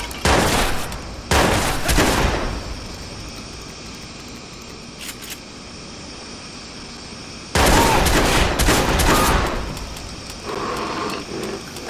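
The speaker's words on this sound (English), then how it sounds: "Shots fired!" Gunfire in the video game Watch Dogs during a prison shootout, with loud bursts of rapid shots in two main clusters at the start and again near the end, plus a few brief cracks between them.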